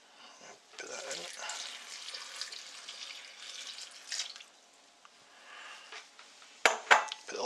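Tap water pours from a faucet into a cooking pot while a lamb curry is prepared, a continuous splashing rush for several seconds, followed by a few sharp metallic knocks of the pot near the end.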